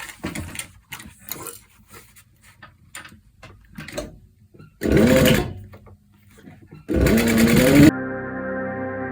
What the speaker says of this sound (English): I'm going to stitch along the bottom edge